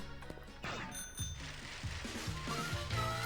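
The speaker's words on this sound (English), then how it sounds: "I love how he rings the bicycle bell when he gets on the bike." In the Pokemon Shield video game, a bicycle bell rings as the character gets on the bike: a bright metallic ding stands out among ringing game sound effects and music, clear and close.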